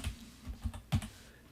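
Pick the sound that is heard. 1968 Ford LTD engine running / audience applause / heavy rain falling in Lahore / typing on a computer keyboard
typing on a computer keyboard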